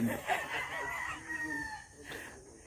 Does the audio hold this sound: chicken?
yes